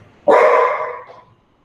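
A single loud, close bark from a dog that has spotted a squirrel, sharp at onset and trailing off over about a second, with nothing else heard.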